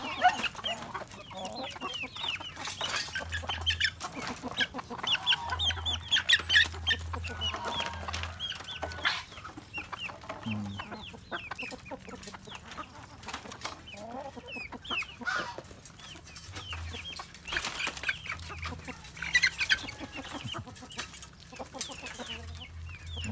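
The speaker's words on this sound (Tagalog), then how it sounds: "Ito yung mga ochocherong mga Rhode Island hindi makapahintay." Rhode Island chickens, kept apart from native chickens, cluck and squawk continuously at moderate distance while waiting to be fed, with a low background hum.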